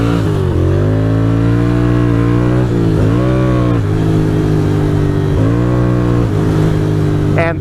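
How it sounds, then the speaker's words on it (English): Car engines idle and rev in bumper-to-bumper Manhattan traffic in New York City, a loud, steady close-up engine drone with pitch swells as the vehicle accelerates, alone without voices. "bumper to bumper traffic."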